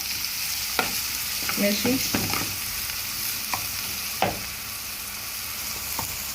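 Spiced meat sizzles and fries in a pan while a utensil stirs it, with scattered scraping clicks over a constant hiss, close up; a voice speaks briefly.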